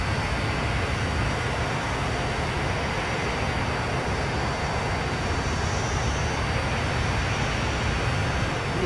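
A 1970s Boeing 737 jet taking off in the game Transport Fever, a steady, loud broadband engine roar holding level throughout with no voices.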